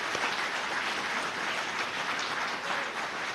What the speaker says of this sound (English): Let's give Fremont Union High School District a round of applause.